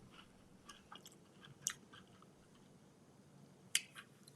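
Faint, close crunching bites come in a few sharp crackles against a quiet background, with long gaps between them.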